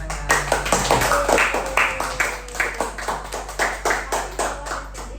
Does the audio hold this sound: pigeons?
no